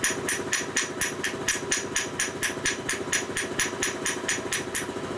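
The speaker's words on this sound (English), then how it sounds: "I'm tapping on the steel valve, not the pump itself." Steady, even hammer taps on a steel valve of a 1937-48 UL/ULH 45ci pump, about three to four strikes per second, bright and close, with a faint mechanical hum underneath.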